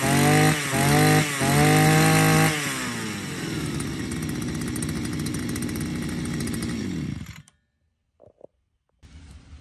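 A large Japanese brush cutter's two-stroke engine revs in a few loud bursts, then holds a high, buzzing idle-to-rev whine for several seconds before cutting out into near silence with a brief restart noise.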